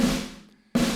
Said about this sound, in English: last rudiment is the buzz roll or multiple bounce roll,